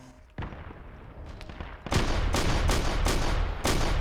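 A Skyfire turret fires in a video game, loud rapid bursts of gunfire in a sustained fusillade after a couple of isolated shots, close and dense with no pauses.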